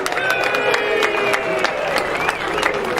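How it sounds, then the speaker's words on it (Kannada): A crowd applauds at the closing ceremony of the Mysuru city police annual sports meet, with dense, steady clapping that continues through the clip while voices call out over it. "ಹಾಗಾಗಿ ಅವ್ರಿಗೋಸ್ಕರ ಇನ್ನೊಂದು ಟೈಮ್ ಚಪ್ಪಾಳೆ ಚೆನ್ನಾಗಿ."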